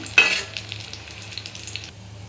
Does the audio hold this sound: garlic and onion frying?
yes